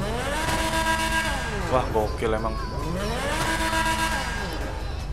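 A modded car engine in GTA V revs hard, rising and falling in long sweeping pitch swells, with a brief excited voice in the middle.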